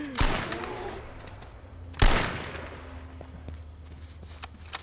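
Two sharp gunshots in the H1Z1 survival video game, each ringing out with a decaying tail about two seconds apart, followed by faint thumps and footsteps.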